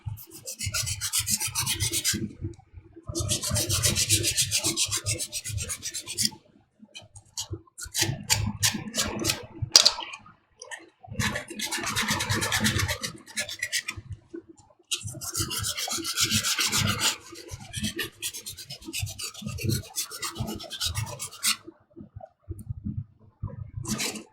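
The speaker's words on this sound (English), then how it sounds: "the next phase of doing our favorite thing is hand sanding points that are going to be glued together" Rhythmic, raspy hand sanding of plastic armor pieces in repeated bursts of quick strokes, with short pauses between passes, close up and steady.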